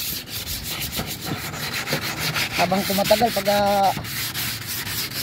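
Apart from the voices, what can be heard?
hand sanding rust with sandpaper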